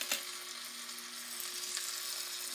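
Chicken cutlets for chicken parmigiana browning in a pan, with a faint, steady sizzle and a low hum underneath, heard alone.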